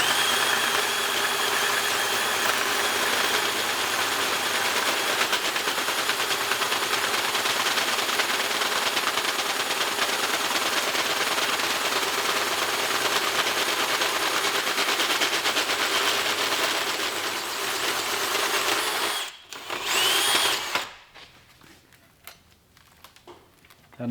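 A power drill running at low speed and high torque bores through metal for custom engine and gearbox mounts on a Datsun 670, a loud, steady grinding whir for about twenty seconds before cutting off abruptly.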